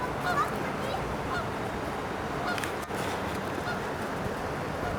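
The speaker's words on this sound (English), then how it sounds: "We can label it duck making annoying noise." A duck honks and quacks loudly and repeatedly up close, a harsh, grating goose-like call running continuously over a noisy outdoor background.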